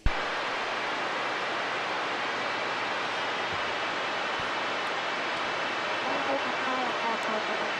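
Hiss and crackle from a Lincoln II Plus radio as interference from another station splashes over the channel, a steady broad noise holding for several seconds with a faint voice mixed in.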